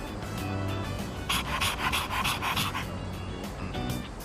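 Dog panting in the video game Persona 3 Reload, a quick rhythmic run of close, breathy huffs that builds in the middle and then eases off, with no voices over it.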